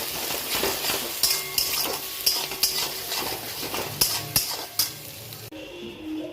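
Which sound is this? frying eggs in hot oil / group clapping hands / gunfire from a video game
frying eggs in hot oil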